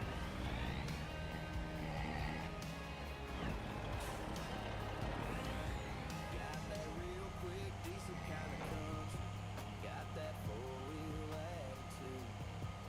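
A heavy truck engine rumbles steadily in Farming Simulator 25, a low continuous drone with mechanical layers and pitch shifts running throughout, mixed with other machine noise while someone talks over it.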